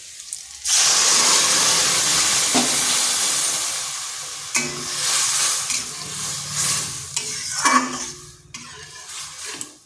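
Lentils go into a hot, spiced pan and sizzle loudly, then are stirred with scraping and clattering against the pan, close and continuous, with no voices.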